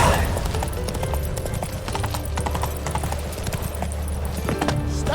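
Roach the horse from The Witcher 3 galloping, with a steady, rapid clip-clop of hooves close up running throughout, plus low rumbling game sounds and faint voices.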